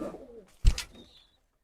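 A pigeon gives a single short coo from a flock shut inside a loft, close and brief, with soft rustling before it and quiet after.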